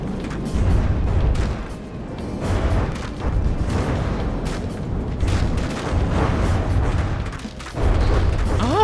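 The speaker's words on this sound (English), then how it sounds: "The cram cannon actually did hit this time" Heavy cram cannon shells fire and strike targets in a From the Depths naval battle, deep booming blasts and rumbling impacts over continuous mechanical din, loud and close with several distinct heavy hits.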